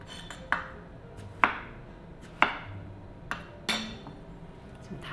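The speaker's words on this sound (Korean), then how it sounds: "이거를 썰어 넣을 거예요" A knife slices through cooked pumpkin on a cutting board, six sharp distinct chops at roughly one-second intervals, close and moderately loud, with no talking.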